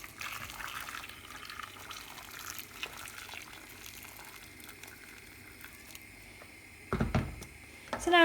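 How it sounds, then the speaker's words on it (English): Boiling water is poured into a pot of stewing beef for an Irish beef stew, a soft steady trickle and splash that rises into a louder burst of pouring near the end. "And then we're going to cover it over with boiling water."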